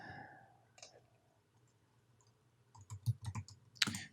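A computer keyboard is handled and shifted, giving a few soft clicks and then a cluster of sharper plastic knocks and taps near the end.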